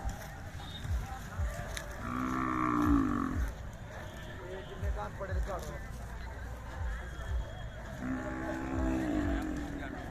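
Deep, drawn-out moos from large white Khillar bulls rise several times over a low outdoor rumble, with a few faint voices and shuffling nearby.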